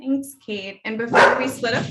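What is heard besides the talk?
dog barking in the background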